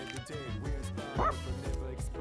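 A dog in the video game Persona 3 Reload gives a few short yips and bow-wow barks with a whimpering tone, heard over continuous game music and voice sounds.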